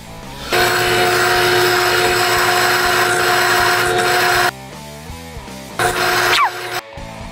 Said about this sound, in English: Put this board in the drill press with the hole with the drill bit in it